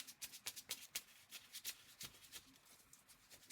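Playing cards being shuffled in quick riffles and taps, a rapid series of crisp flutters close by with no talking.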